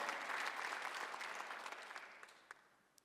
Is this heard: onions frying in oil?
no